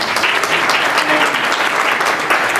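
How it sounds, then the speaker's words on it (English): Steady, dense applause fills the room at a neighborhood merchants group gathering on Fillmore Street, clapping loud and continuous throughout without pause. "A round of applause."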